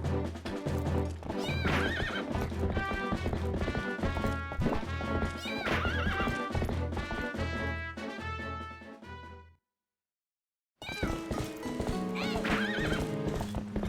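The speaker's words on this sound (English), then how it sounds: "Alright, let's get my horse." A horse whinnies over steady clip-clopping hooves and a busy music track in Zelda: Twilight Princess, then everything cuts to silence briefly before the sounds resume.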